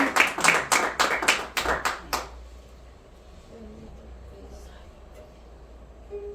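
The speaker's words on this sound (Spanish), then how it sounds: "Dale palmas al Rey." In a church, a congregation gives about nine quick, evenly spaced claps in unison that stop after a couple of seconds, leaving a quiet room with faint murmuring.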